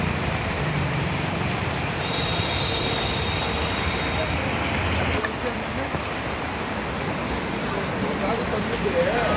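Steady rain pours continuously onto a street in Sakleshpur, with passing traffic hum underneath and a constant dense hiss throughout.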